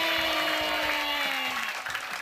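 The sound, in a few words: applause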